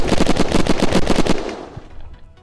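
Rapid automatic gunfire in the survival game Unturned, shots fired at the floors of a base during a raid; about a dozen close, loud bursts in quick rhythm, then a fading echo with faint rumble.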